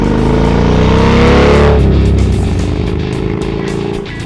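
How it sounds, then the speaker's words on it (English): An 1811cc (111 cubic inch) Indian Chief motorcycle pulls away under throttle from low revs, a loud, close engine roar with a rising harmonic drone that eases off as it moves on. "the Indian simply surges ahead"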